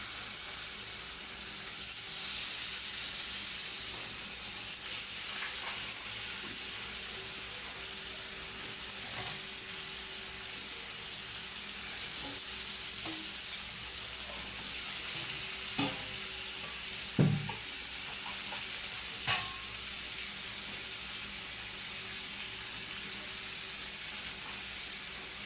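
Beef fries in a small amount of oil, a soft steady sizzle with faint crackles and a few sharper pops near the end, even and quiet throughout with no talk.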